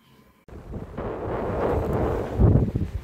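Strong, cold wind buffets the microphone outdoors, starting abruptly and then roaring as a steady, loud rush that swells and gusts without a break.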